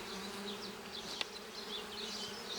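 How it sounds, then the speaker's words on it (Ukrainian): Honeybees buzz around brood frames lifted from an open hive body, a steady soft droning hum close by with a brief sharp knock partway through, no voices. "Бджоли вийшли."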